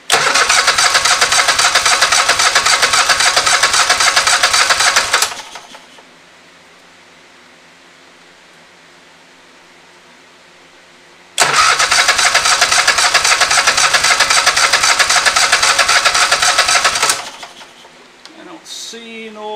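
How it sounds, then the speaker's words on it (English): A Kohler engine swapped into a Scag Tiger Cub mower, on full choke with no muffler, gives two loud, harsh bursts of several seconds each, separated by a long silence, very close with no voices. "Let's see if we get this bad boy to start. Full choke. There is no muffler on here."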